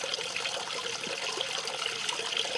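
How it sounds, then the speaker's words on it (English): Water trickles and splashes softly from a small waterfall and pump in a fish pond, a faint, continuous babble with light dribbling detail and no voices. "the pump there and the waterfall push more air back into the water"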